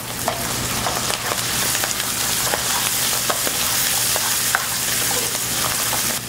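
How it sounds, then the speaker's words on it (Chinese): Strips of pork belly stir-fried in a hot wok for Taiwanese-style fried rice noodles, a loud continuous sizzle close up with scattered light taps and scrapes of the spatula, no talking. "爆香了以后，猪五花肉丝下来"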